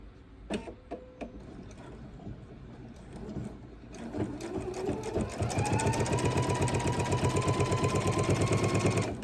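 A sewing machine sews the final seam of a bowl cozy, starting after a few clicks and light handling, then building into a steady rapid rhythmic stitching that carries on to the end.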